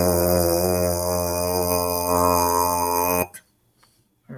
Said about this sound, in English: you're going to make that buzzing sound like this